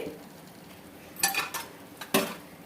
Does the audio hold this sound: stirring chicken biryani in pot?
yes